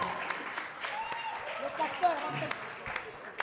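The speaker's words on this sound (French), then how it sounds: "Est-ce qu'on peut acclamer Paul ce soir?" Live concert crowd applauding and cheering for Paul at an outdoor nostalgia show, a steady wash of clapping heard from a distance, fairly quiet, with a voice talking over it.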